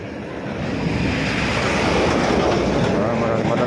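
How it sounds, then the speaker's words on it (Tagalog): A heavy truck roars past close by on a road, a loud continuous rumble that swells and holds steady. "malakas yung truck ah."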